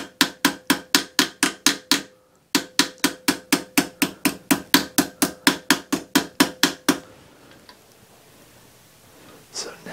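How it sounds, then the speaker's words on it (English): A hammer strikes jewelry sheet metal on a stake to roll its edge, delivering a steady rhythmic run of sharp metallic blows, a short pause, then another long series before it falls quiet. "I can move it around on the stake to roll that edge. Just hammer a little bit more over that."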